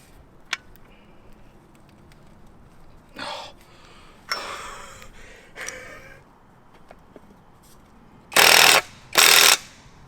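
While an O2 sensor is being removed from a BMW 330, a hand ratchet makes a few scattered clicking bursts, then two loud, close rasping bursts at the end.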